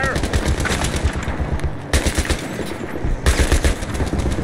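Sustained machine gun fire in a Battlefield 3 combat scene, loud rapid bursts layered with more gunshots and booms, nearly continuous across a few seconds, with shouted voices under it.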